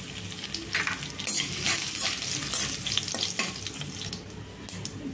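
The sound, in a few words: tempering sizzling with garlic and dried red chillies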